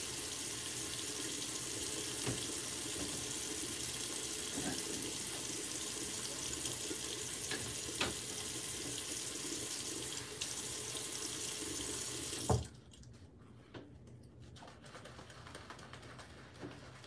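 Tap water running steadily into a sink during a wet shave while lathering a thick shaving soap, a constant close hiss that cuts off abruptly near the end, leaving faint room sounds and a few distant bird coos.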